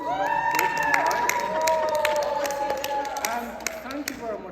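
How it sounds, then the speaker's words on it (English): Audience applause for a book publisher at a book introduction event, continuous clapping and scattered sharp claps under speech and cheering. "Give her a round of applause"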